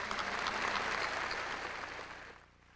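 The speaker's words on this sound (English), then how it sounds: "would you give them a round of applause" Applause rises from the audience at a 2003 high school graduation ceremony in Bellbrook, Ohio, a broad even clapping that gradually fades away over the final second.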